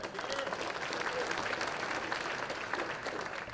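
Audience applause at the 2017 Garland Sports Hall of Fame ceremony, a dense, steady clatter of many clapping hands filling the room without pause.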